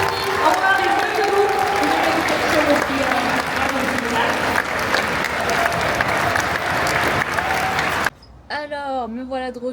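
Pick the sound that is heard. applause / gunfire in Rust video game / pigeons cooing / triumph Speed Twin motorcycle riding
applause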